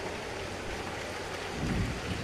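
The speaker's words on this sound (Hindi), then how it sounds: "इतनी बारिश हो रही है, बस वह सुरक्षित घर आ जाए।" Heavy rain falls steadily in a cartoon scene, a soft continuous hiss that swells slightly near the end, no voices heard.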